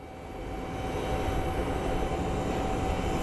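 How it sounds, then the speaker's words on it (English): An airliner arrives at Phoenix Sky Harbor airport, its engines a loud, steady roar that swells over the first second and then holds, with no talk. "There's our flight out of Charlotte."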